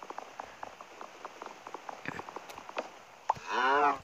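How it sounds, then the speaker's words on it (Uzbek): A cow moos once in Minecraft, a short nasal low at the end that comes after a run of soft, scattered ticks and taps, with no talking. "U sigir."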